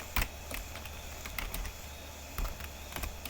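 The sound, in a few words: typing on a computer keyboard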